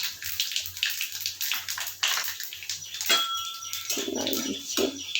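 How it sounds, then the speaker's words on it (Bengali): Dried red chillies and black cumin (kalo jeere) tempering in hot oil for a mashed taro (kochu bata) dish, a steady close crackling sizzle with bright spitting bursts that rises and falls throughout. "তেলটা গরম হয়ে গেছে, এবার আমি ফোড়ন দিচ্ছি 3টে শুকনো লঙ্কা, তার সাথে দেখো একটু কালো জিরে"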